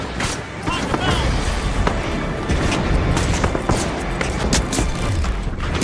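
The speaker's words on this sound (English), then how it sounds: "Throwing two grenades." Loud, booming grenade blasts and a rapid series of gunfire in a shooter video game, dense and continuous, with a voice talking over the action.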